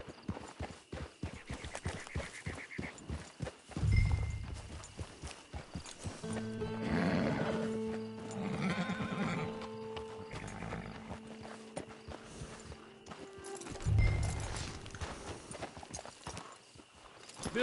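A horse in the video game Red Dead Redemption 2 clip-clops along with steady hoofbeats, then neighs loudly in a long whinny. There are snorts and a second burst of hooves and whinnying near the end, close and prominent.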